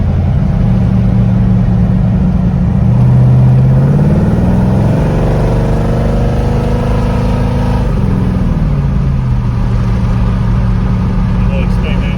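The hot rod's engine, making more power than ever, revs hard while driving, with a loud, close, rumbling roar that climbs in pitch and falls back in waves, mixed with steady road noise.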